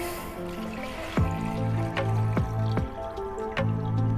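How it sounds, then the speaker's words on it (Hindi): Milk, about a litre, is poured into a wok (kadhai) for coconut kheer, giving a steady close liquid flow punctuated by repeated glugging drips and splashes that sound alone without speech. "एक कढ़ाई में डालेंगे 1 लीटर दूध"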